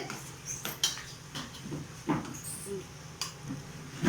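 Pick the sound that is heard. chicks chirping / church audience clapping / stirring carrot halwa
stirring carrot halwa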